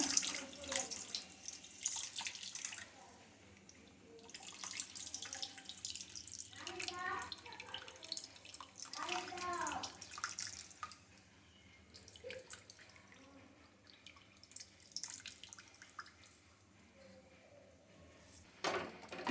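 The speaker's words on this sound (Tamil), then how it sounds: "அந்த தண்ணியை நல்லா ஃபில்டர் பண்ணி அப்படியே சேர்த்துக்கோங்க" Filtered tamarind water pours and trickles in uneven bursts into a fish curry, with dripping and splashing, interrupted by short pauses, close by and moderately quiet.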